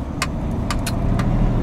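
A DAF 8x4 tipper truck belonging to Maguire's moving slowly around the demo track at Punchestown, a loud, steady low engine rumble from inside the cab with a few brief clicks and rattles over it.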